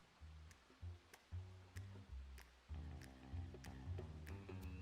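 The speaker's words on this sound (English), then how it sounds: "It's raining." Rain falling in the video game Mewgenics: a steady hiss across the whole clip, with tonal game music and bright chime-like ticks layered over it.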